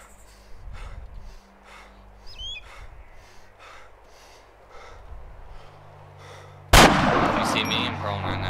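Gunfire in the video game ARMA 2 Project Reality: after several seconds of heavy rhythmic breathing, a sudden loud, close burst of shooting erupts and keeps going with a harsh, sustained roar to the end.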